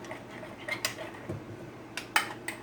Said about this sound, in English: I'm just gonna mix this up.